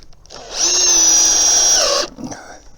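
A power drill drives a 3.5-inch deck screw into a rafter for a garden arbor, a single close, loud whining burst lasting about a second and a half, pitch dropping as it seats.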